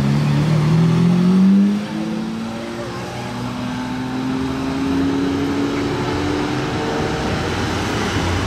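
McLaren P1 engine revving nearby, a loud rising roar that dips briefly, then settles into a sustained climbing drone.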